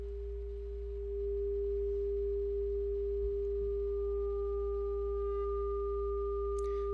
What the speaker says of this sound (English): As I turn it up gradually, you can see and hear the individual frequencies that make up the square wave pop in one at a time.